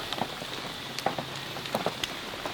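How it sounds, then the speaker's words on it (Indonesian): Rain patters on a tent during forest camping, a dense, steady drumming with scattered louder drops striking close by, continuous and alone without speech. "siapa tahu hujannya reda"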